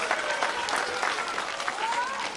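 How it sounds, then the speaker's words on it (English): Steady applause from a crowd at a live science show, dense and continuous clapping throughout with a faint tone and some voices mixed in. "Let's give a round of applause"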